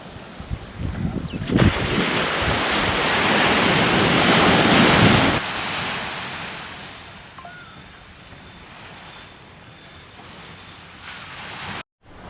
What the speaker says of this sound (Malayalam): അത്രയും കടൽ ശാന്തമായിട്ട് കിടക്കുന്നത്